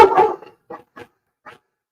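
A chihuahua barks in a quick flurry of close yaps, followed by three shorter, sparser barks spaced about a quarter to half second apart, with silence between them.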